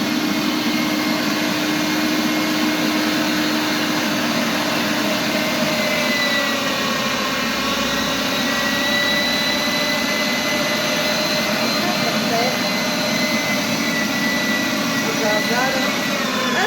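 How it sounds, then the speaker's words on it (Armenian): Electric meat grinder mincing boiled potatoes for potato cutlets, a loud, continuous motor whine and hum running steadily throughout at close range, with faint talk beneath it. "Հիմա սկսեմ աղալ։ Առաջինը աղում եմ կարտոֆիլը։"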